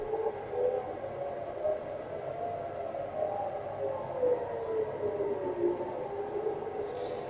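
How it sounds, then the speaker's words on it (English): Air raid sirens sound across Tel Aviv, a sustained wailing tone rising and falling slowly from a distance, steady and alone with no talk. "right now what you're hearing are sirens sounding across Tel Aviv."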